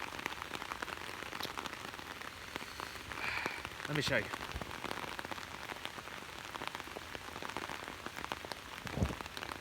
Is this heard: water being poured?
no